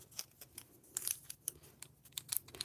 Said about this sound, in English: So let's see if we can get the tape well peeled off of these.